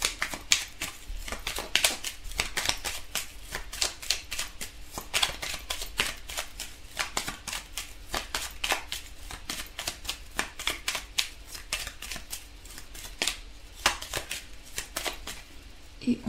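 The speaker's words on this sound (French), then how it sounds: "on va piocher quelques cartes pour compléter" Oracle cards being shuffled and handled, a long run of rapid crisp flicking snaps with brief irregular gaps, close and fairly quiet.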